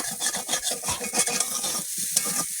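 Banana slices frying in a pan crackle up close, with rhythmic stirring scrapes and a few light clinks of a utensil against the pan.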